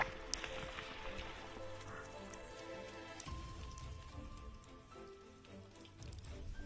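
Heavy rain falls in an Asian jungle, pattering steadily and quietly on leaves and a shelter, with scattered sharp drips throughout.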